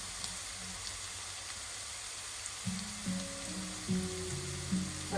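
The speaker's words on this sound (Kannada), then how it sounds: "ಅದಕ್ಕೀಗ ಕರಿಬೇವಿನ ಸೊಪ್ಪು ಸ್ವಲ್ಪ ಹಾಕ್ತೇನೆ" Curry leaves dropped into hot oil for sambar, a steady close sizzle and hiss that continues throughout, with a few faint clinks late on.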